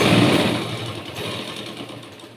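A sewing machine stitches a seam on a garment near the neckline. It gives a steady, close whirring motor hum with a fast rhythmic patter that fades slightly toward the end.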